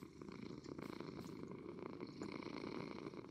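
A cat lying on a bed in the Minecraft video game purrs in a steady, soft, continuous rumble with no other sounds.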